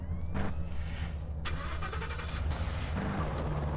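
A car engine in the video game Rockstar MTA cranks and turns over, then settles into a steady low idle rumble, close and continuous with a brief rev in the middle.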